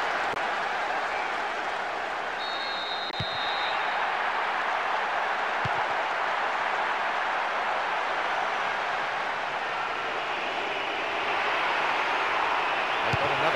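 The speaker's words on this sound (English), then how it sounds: "There is nowhere quite like this for noise, the capacity crowd getting behind their team." Capacity stadium crowd in the PES 2025 football video game, a steady loud broadband roar held throughout with a brief high whistle-like tone early on.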